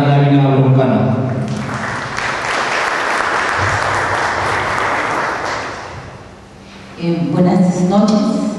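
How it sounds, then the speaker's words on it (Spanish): Loud, dense applause from an audience at a lawyers' association lecture welcoming a speaker, a sustained wash of clapping that swells and then fades out, with close speech before and after it. "Recibimos con un fuerte aplauso"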